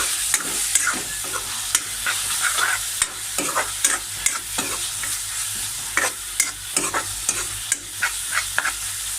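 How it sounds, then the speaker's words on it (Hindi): Chicken with masala sizzles in a pan while a spoon stirs it, giving close, irregular scraping strokes over a constant frying hiss. "इसको अच्छे से हिला देगा।"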